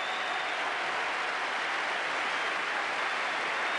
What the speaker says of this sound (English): Tremendous applause, a standing ovation for the great player.